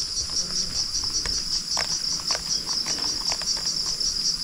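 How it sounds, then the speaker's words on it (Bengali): Crickets and other insects in a forest along the Mardi Himal trek in Nepal keep up a continuous high-pitched shrill chirring, steady and fairly prominent, with no voices. "নাম না জানা পোকার আওয়াজ আসছে,"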